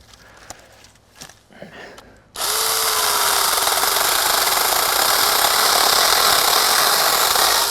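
A battery-powered mini chainsaw runs for a couple of seconds with some handling knocks, then bites into wood outdoors with a loud, steady, high-pitched buzzing cut that continues to the end.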